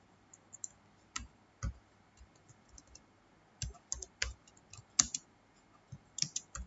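Typing an HTML program on a computer keyboard, heard as close, irregular clusters of light key clicks with short pauses in a quiet room.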